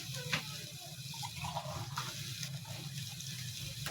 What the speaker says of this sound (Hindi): तो इसमें मैं थोड़ा सा पानी डाल देती हूँ।